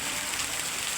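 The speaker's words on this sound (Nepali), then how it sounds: "धेरै ठुलो असिनो परेको छ।" Heavy rain mixed with large hailstones falling in Jajarkot, a dense continuous roar of impacts on surfaces, loud and close with no voices.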